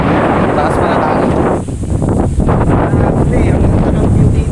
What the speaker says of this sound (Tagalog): Taas pa ng hangin.